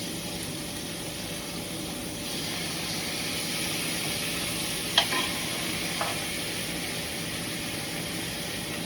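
Lamb chops fry in a pan with a continuous, even sizzle, close and moderately quiet, broken by a couple of brief clicks.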